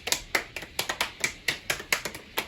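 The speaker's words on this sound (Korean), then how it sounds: "성공 박수!" Group rhythmic clapping at a Bible doctrine camp, a quick patterned burst of sharp claps from many hands, about a dozen claps in two and a half seconds, loud and close with no talking.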